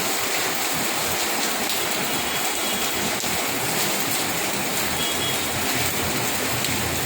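Heavy, continuous rain pours steadily during a typhoon, a dense unbroken wash of hissing water that stays loud and even throughout with no voices.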